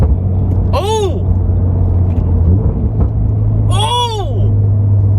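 A car crackles loudly on the downshift with a steady engine drone beneath, then two sharp exhaust pops a few seconds apart.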